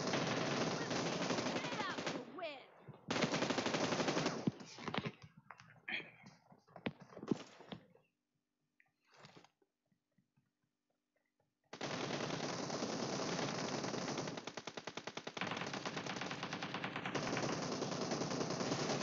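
Gunfire in a PUBG team deathmatch game, with long bursts of rapid automatic shots, a lull with scattered single shots and footsteps, then another sustained stretch of dense, loud firing.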